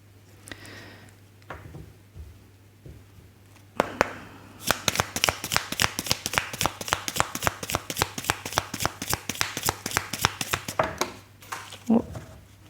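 Tarot cards are shuffled by hand in a long run of quick, crisp riffling snaps close to the mic, preceded by a few softer handling sounds and ending with a couple of stray taps.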